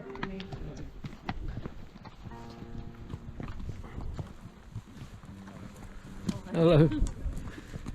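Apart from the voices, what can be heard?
hooves of ponies and horses being ridden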